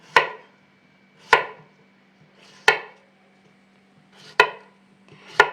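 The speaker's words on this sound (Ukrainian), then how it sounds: "Огірки я маю нарізати ось такими кільцями пів сантиметра." Five crisp knife chops slicing cucumbers into half-centimetre rings on a cutting board, evenly spaced about a second apart, close and clear with quiet gaps between.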